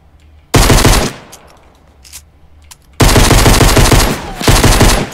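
Sniper gunfire in the Fortnite video game, two loud bursts of rapid shots, the first about half a second long and the second roughly two seconds, with quieter gaps between.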